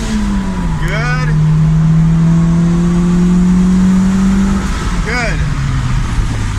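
Turbocharged Honda D16 two-door car accelerating under boost: a loud, steady engine drone climbing through the gears, with brief high whistling chirps at shift points and a voice talking over it.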